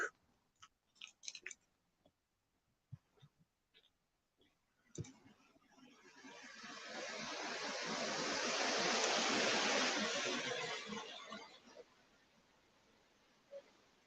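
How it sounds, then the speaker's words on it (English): A small brook flows steadily outdoors, its broad rushing wash swelling and fading over several seconds after a stretch of scattered clicks and knocks. "We're at the brook."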